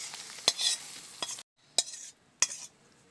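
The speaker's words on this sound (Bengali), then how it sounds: "এবারে আমি খিচুড়ির সাথে মশলাটা বেশ সুন্দর করে একটু নেড়ে চেড়ে নেব।" Spice paste is stirred into khichuri made with gobindobhog rice and winter vegetables in a pan, giving a few distinct scrapes and clinks of a spoon against the metal, each followed by a brief sizzle, with a short silent gap between strokes.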